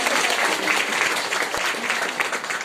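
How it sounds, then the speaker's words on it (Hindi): Steady, dense applause fills the room at a Brahma Kumaris welcome gathering in Mathura, a crowd clapping continuously and fairly loudly throughout with no break. "से ताली बजा दीजिए।"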